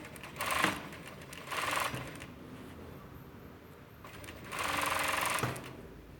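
Sewing machine stitching men's boxer shorts, three separate bursts of rapid stitching with short pauses between them, close by and with no talking.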